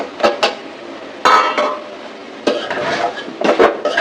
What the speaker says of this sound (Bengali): এখন আমি মিষ্টি কুমড়াটা দিব।